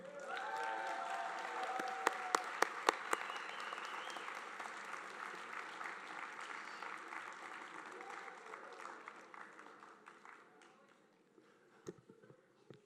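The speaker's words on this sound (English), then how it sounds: "One more time, let's give Martin a round of applause" Applause from the audience at a university alumni award ceremony, full at first with a few sharp claps standing out, then thinning and fading toward the end, with faint voices underneath.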